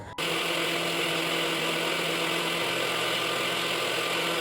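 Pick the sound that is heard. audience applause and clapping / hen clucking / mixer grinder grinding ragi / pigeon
mixer grinder grinding ragi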